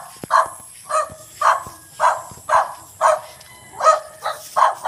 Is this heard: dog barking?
yes